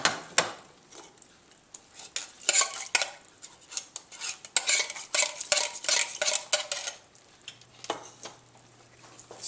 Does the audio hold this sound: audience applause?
no